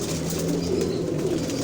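Rampuri pigeons with blue eyes coo in a low, steady murmur that runs continuously close by, with no voices over it.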